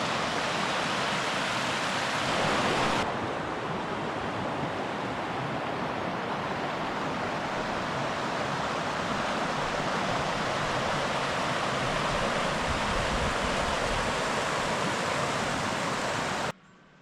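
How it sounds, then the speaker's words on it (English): Manning River flowing through a riverside rural property, a steady loud broadband rush of moving water heard up close for the whole stretch before cutting off abruptly at the end, with no voices. "This is the Manning River. So the river flows in between the property."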